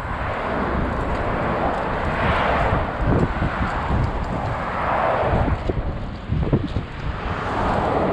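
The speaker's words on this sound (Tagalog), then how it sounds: "Lakas ng hangin." Strong wind roars steadily across the microphone in gusty surges at the seaside, a low rumbling buffet with no voices, loud and close throughout.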